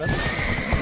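A horse in the Black Desert Online video game gives a short neigh over the clip-clop of hooves, close and brief.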